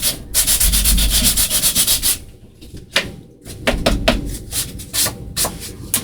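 Sandpaper rubs quickly back and forth along the edges of a craft badge to distress it, loud and close, first in a fast continuous run, then in shorter separate strokes.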